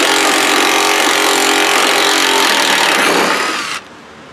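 A power tool fitted with an 8mm socket whirs loudly and steadily on a 1997 Ford Explorer Limited V8 salvage rebuild for nearly four seconds, then cuts off abruptly, leaving quiet.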